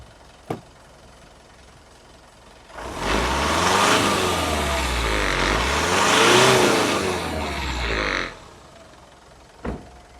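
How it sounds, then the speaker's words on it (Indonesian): A full-original, low-mileage Mitsubishi Pajero diesel with a turbo, running on biodiesel, is revved close to the microphone: a brief tick, then about five seconds of loud, rising and falling revs, and a return to a quiet idle. "Nah ini coba kita mikrofon kita dekatkan, kita dengar suara mesinnya ya."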